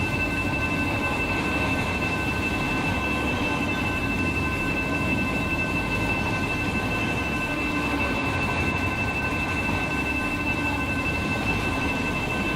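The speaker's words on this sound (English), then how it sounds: "Long train" A long train rolling past in the Run 8 train simulator video game, a steady, unbroken rumble of railcars with faint tonal whine, constant and fairly loud throughout.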